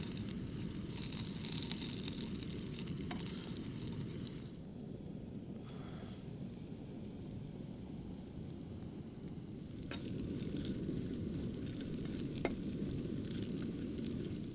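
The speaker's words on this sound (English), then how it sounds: "that's my gnocchi, crisping up nicely" Gnocchi sizzle and crisp in a small camping pan on a stove outdoors while wild camping in the Lake District, a steady close frying hiss with occasional stirring scrapes that dips briefly midway and then swells again.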